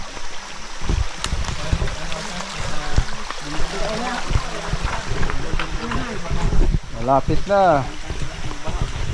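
A flowing stream running beside a footpath on a cave trek in Bohol to Leyte, its steady water rush continuous beneath nearby voices talking throughout.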